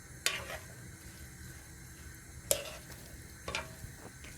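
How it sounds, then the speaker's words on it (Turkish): Mixed herbs sizzle softly in olive oil in a pan, a faint steady frying hiss broken by three sharp scrapes and clicks of stirring. "Şimdi güzelce bunları soteleyeceğim."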